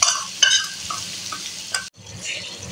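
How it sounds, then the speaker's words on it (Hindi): Masala spices roasting and sizzling in a pan for a kala chana curry, with steady close frying hiss broken by a few sharp stirring scrapes and clinks, then a brief pause before the sizzle resumes. "तो मसाला हम थोड़ा भून लें फिर आपको दिखाते हैं"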